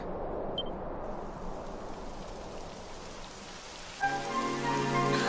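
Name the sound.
rain in video game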